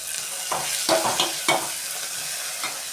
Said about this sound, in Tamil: கொத்தமல்லி கருவேப்பிலாம் அதில் போட்டுட்டு நல்லா வதக்கி விட்டுக்கோங்க.